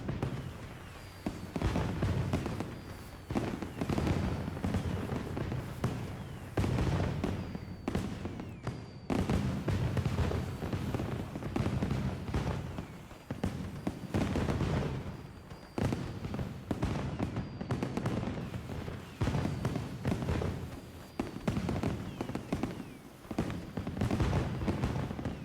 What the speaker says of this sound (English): we come to the end of the fireworks show